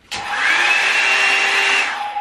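A hot air brush hair dryer shaped like a round brush switches on abruptly and runs with a loud, steady whirring whine and a high tonal hum, then cuts off near the end.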